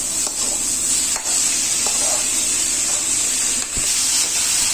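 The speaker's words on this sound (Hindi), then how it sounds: "5 मिनट तक इसे भून लें" Chhattisgarh-style radish greens (muli bhaji) stir-fry in a pan with a loud, dense hiss and sizzle, broken by a few brief scraping stirs.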